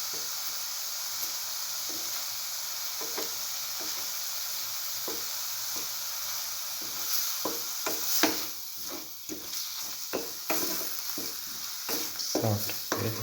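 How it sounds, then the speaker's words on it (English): Egg sautéed and scrambled in a pan with a coconut tortilla wrap mixture, a soft continuous sizzle with clacking stirring strokes that grow busier and louder in the second half, close by and without speech. "Saute the egg and then scramble thoroughly and mix with the rest of the mixture"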